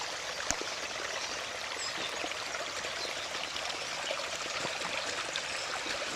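Storm water runs off a field along a road, a steady faint rushing and trickling flow with no voices.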